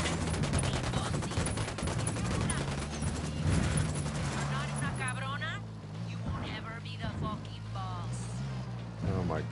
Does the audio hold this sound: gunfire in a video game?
yes